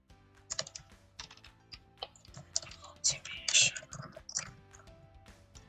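Typing on a computer keyboard during a graphic design tutorial, a run of close, crisp key clicks in irregular bursts with a few louder presses, heard with no one speaking.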